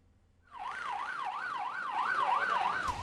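An ambulance siren on a road in West Java wails in a steady, fast up-and-down sweep, starting abruptly and staying loud and close for a few seconds.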